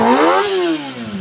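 Kawasaki ZX25R motorcycle with an aftermarket exhaust revving hard, a loud, close rising then falling engine howl in one short burst with no talk.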